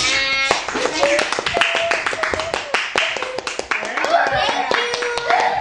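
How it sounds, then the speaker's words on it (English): Hands clap in a steady series of sharp, close strikes during a church Easter skit, with voices chattering and singing over the claps throughout. "Clap."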